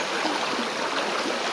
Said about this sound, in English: The river's very loud because we had so much flooding.